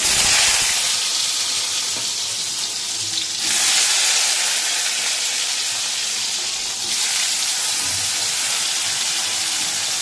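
Eggplant slices sizzle steadily in hot oil in a home kitchen, a loud continuous frying hiss that swells briefly twice as the pieces settle, with no talking.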